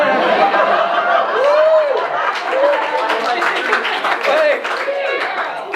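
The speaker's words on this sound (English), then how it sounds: "that got more applause than me" Audience at a geek-culture show interview claps in scattered bursts for a corgi-themed game, mixed with chuckles, laughter and chatter from the crowd, with voices talking throughout.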